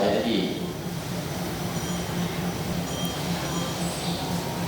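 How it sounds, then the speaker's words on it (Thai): A train sits at a Thai railway station, giving a steady low rumble with faint metallic squeals and broad station ambience; the sound stays even and fairly close throughout. "นี่คือบรรยากาศที่สถานีรถไฟสีสเกตนะครับ"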